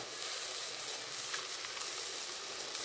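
Mackerel curry masala sizzles in a pan with a steady, soft hiss while it is stirred. The frying stays fairly faint and even, with no voices.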